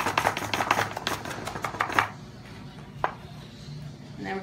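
A knife chops food for kimchi on a cutting board in a home kitchen: a quick, steady run of close, crisp chops, followed by a few scattered strikes after a pause.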